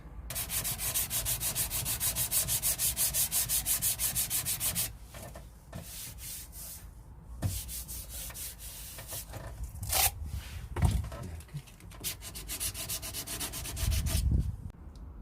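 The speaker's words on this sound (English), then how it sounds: "That coat of filler I've just sanded off." Rhythmic rapid sanding rasps of a flat sanding disc across body filler on a VW T25 campervan dash or bumper for several seconds, then slower scraping strokes and handling knocks, fairly close and loud.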